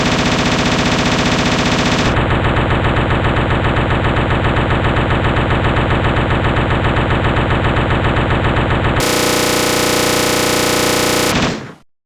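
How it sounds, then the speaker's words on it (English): Rapid, sustained automatic fire from the infinite-ammo machine gun in Resident Evil 1, loud and relentless for about eleven seconds with a shift in tone partway through before it stops abruptly. "So, being a machine gun and supposedly using the same ammunition as a handgun, I will go ahead and test this on the same zombies."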